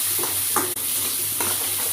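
Oil sizzles in a pan as a tempering of mustard seeds, cumin, green chillies, onions and fenugreek fries, with steady crackling hiss and a few stirring scrapes, no voices.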